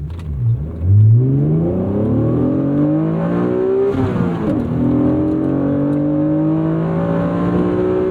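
A 1995 Acura NSX-T NA1 sports car engine revs up hard, its pitch climbing and sweeping through gear changes, loud and close, holding a steady high drone toward the end.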